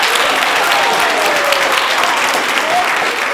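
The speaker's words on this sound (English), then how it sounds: "Let's give a round of applause to all of our judges." A school audience at a spoken word event applauds the judges with full, continuous clapping that stays loud and even throughout.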